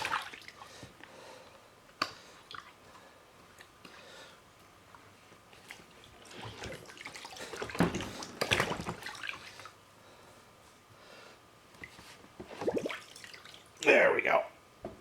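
A four-jaw chuck from a Sheldon lathe, cleaned with rust remover, is rinsed under running water, giving quiet intermittent splashing and trickling with a few louder gushes near the end. A voice talks at points.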